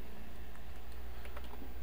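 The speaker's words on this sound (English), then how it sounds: "enter first name, Juliana." Quick, close keystrokes on a computer keyboard as a name is typed into a C++ console program, a short run of light clicks over a steady background hum.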